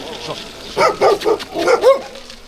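A dog barks in a few short bursts close by during a Carpathian gravel bike ride, with a voice talking between the barks.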